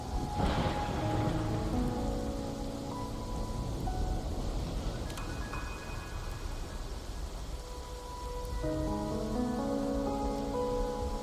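Steady rain in the video game Wuthering Waves, a dense continuous hiss of falling drops under soft sustained tones, with a brief brighter crackle partway through and no voices.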